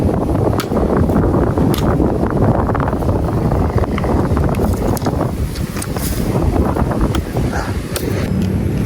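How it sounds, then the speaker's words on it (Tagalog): Steady wind blows hard across an exposed mountain-top campsite, a continuous loud roar with gusty buffeting against the microphone and no talk. "Hangin pa dyan."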